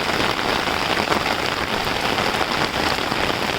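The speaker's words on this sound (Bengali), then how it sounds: "মনোমুগ্ধকর একটি বৃষ্টির বৃষ্টি লীলা চলতেছে" Heavy rain pours down steadily at night near a pond, a dense, even hiss of countless drops striking surfaces, close and loud throughout with no voices.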